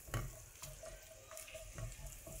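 Garlic sautéing in olive oil in a pan over a medium flame for aglio e olio, a soft steady sizzle broken by a few sharper stirring scrapes and clicks, close and alone with no talking.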